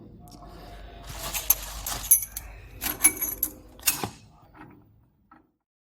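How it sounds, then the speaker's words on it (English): Metallic clinks, ratchet clicks and clanks of bolts being tightened on a bracket of a single girder overhead crane during installation, a handful of irregular bursts before the clatter stops near the end. "and tighten the bolts"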